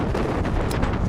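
Steady, loud wind buffets a boat on a Midwest lake during smallmouth bass fishing, a constant roaring rush of noise that fills the whole moment, with no voices heard.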